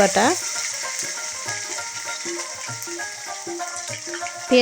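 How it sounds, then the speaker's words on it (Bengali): Onion paste frying with ginger-garlic paste for restaurant-style chicken pulao, a steady soft sizzle in the pan with occasional stirring scrapes and faint tonal background sounds, with no talking. "বাটা পেঁয়াজটাকে ভেজে নিতে হবে"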